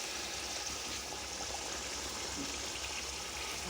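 Water pours steadily into a pot of chicken and potato pulao, a continuous rushing stream heard close and fairly quiet with no break.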